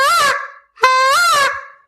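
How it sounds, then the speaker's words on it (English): A beginner blows two long, loud goose-call notes, each a flat, brassy blare like a party horn, with a short gap between them and no talking. "I'm going to learn how to blow a goose call. You're going to sound something like this."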